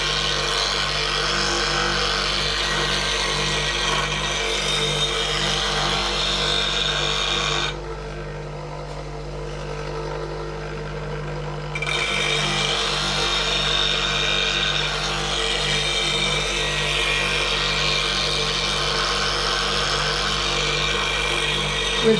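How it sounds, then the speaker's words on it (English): A spindle gouge being ground at 40 degrees on an 8-inch bench grinder with a white oxide wheel, giving a loud, steady, close grinding hum with a few seconds of lighter contact midway, and no voices. "Grinding a spindle gouge here at the moment,"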